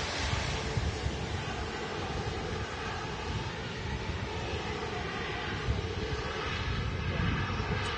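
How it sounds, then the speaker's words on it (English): A Singapore Airlines Airbus A350-900 lines up on the runway at Manchester Airport, a steady broadband jet engine roar with wind noise on the microphone, continuous and fairly loud throughout. "And another A350 lining up on the runway. Singapore A350 900."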